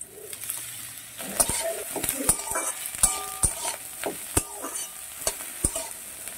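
Potato and chopped eggplant frying in a pan: a hissing sizzle broken by a regular series of sharp spatula scrapes and knocks, close and fairly loud, with no talking.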